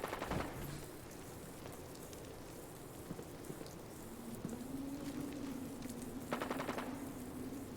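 Rapid bursts of gunfire from gunners in Fallout 4, crackling in two clusters near the start and again toward the end over a steady rain-like background hiss and a low hum.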